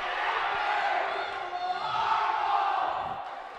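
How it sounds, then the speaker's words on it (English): Crowd at a girls' high school basketball game cheering and shouting in a gym, a loud, sustained roar that swells midway with whoops and yells. "And the crowd going crazy over there"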